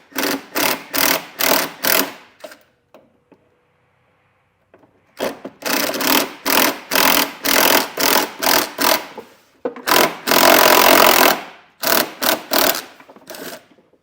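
A 10mm nut is being taken off a panel on a 2018 Toyota RAV4, with loud, rapid ratcheting or whirring bursts in several runs separated by short pauses and no talking.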